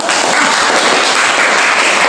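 Audience at a teacher-training class session bursts into steady, dense applause, loud and close, sustained with no talk over it.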